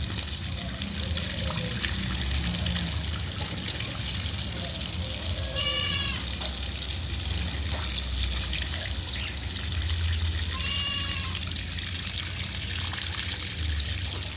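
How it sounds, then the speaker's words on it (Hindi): Continuous water trickling and splashing as a duckling plays in water, with faint bird calls and soft background noise throughout. "पानी की आवाज़ ही काफ़ी है लोगों को।"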